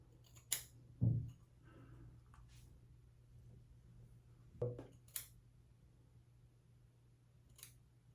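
Scissors trimming excess beard hair: a few separate quick snips spaced a few seconds apart, close and fairly soft over a quiet room hum.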